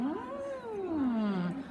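Voice imitating a kitten's meow during a singing exercise, a single continuous gliding tone sweeping up and then sliding down, close and clear with no other talk.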